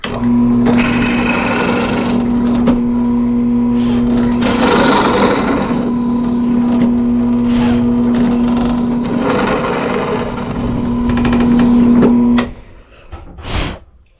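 A drill bores into a wooden pen blank for woodturning, a loud continuous whine with a humming tone for about twelve seconds, then cuts off, followed by a brief clatter.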